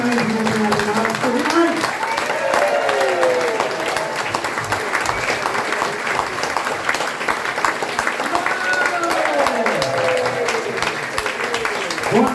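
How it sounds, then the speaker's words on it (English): Steady applause from a comedy-show audience fills the room between acts, loud and continuous, with scattered voices and cheers rising through it. "Give your applause going now."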